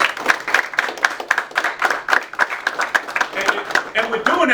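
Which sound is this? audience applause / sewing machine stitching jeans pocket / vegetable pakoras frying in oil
audience applause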